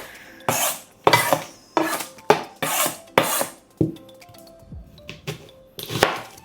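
Knife chopping ingredients for prawn biryani on a board, with a series of sharp, irregular cuts and scraping strokes, fairly close and loud with no talking.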